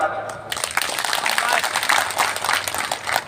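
Audience applause and clapping at a BJP candidate's political rally, a dense spread of many hands clapping that swells after a short pause and keeps going steadily, with a voice talking over it.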